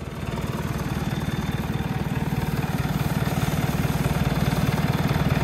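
A tractor engine labours hard in a soft, waterlogged field, a steady loud low drone with a rapid pulsing throb that holds constant throughout, with no talk.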